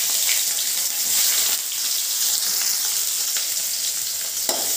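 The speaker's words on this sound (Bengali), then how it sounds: "পেঁয়াজটাকে একটু লাল করে ভেজে নেব।" Onions sizzling steadily in oil in a pan after cumin seeds and dried red chillies go in, as the base for a meat curry; a continuous close frying hiss with faint stirring, no voices.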